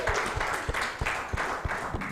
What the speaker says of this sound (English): Let's give a round of applause to Brighton Take.